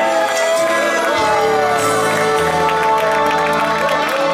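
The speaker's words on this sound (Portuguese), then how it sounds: "Uma salva de palmas para nossa homenageada." Birthday guests applaud and cheer for the woman being celebrated, a dense, loud crowd wash with shouts and ringing tones blended in throughout.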